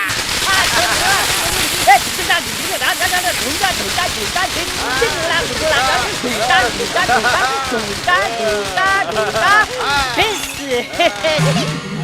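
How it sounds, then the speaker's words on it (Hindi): Firecrackers burst in rapid, crackling volleys in a film comedy scene, mixed with loud voices and shouting throughout. "फोड़ो रे पटाखे।"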